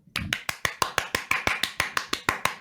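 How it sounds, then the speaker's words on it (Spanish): Production crew on a Spanish-language talk show applauding a guest, about fourteen sharp, evenly spaced claps in a quick steady rhythm, close and crisp, with no one speaking. "Un fuerte aplauso, producción, un aplauso."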